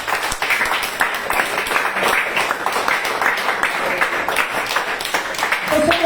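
A church congregation applauds continuously, a dense steady wash of many hands clapping at close range with a few voices faintly mixed in.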